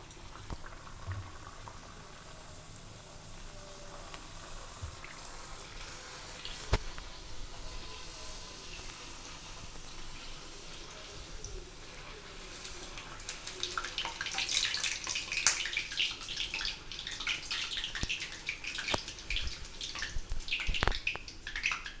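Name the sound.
bhature dough frying in hot oil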